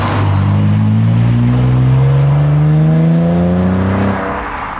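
A supercharged BMW accelerates hard, its engine revving upward through the gears. The tone rises strongly and stays loud and close throughout.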